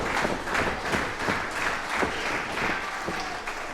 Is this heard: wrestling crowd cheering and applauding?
yes